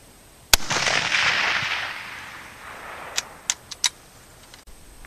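A single loud, sharp rifle shot from an Eddystone rifle on a bench rest, with a long echoing rumble that fades, followed by a few metallic clicks as the action is worked.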